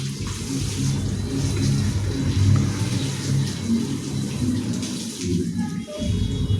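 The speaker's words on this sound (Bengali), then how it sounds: "আমি এবারে মুখ ধুয়ে নিই" Water running and splashing steadily while someone washes their face, a continuous close rush with a low rumbling undertone and brief uneven breaks near the end.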